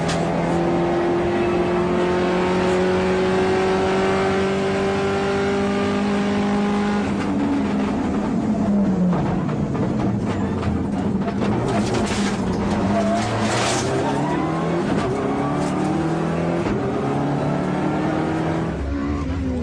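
Volkswagen Golf GTI rally car racing on dry roads in a Danish rally championship round, its engine loud and close, rising and falling in pitch through gear changes and revs for the whole stretch.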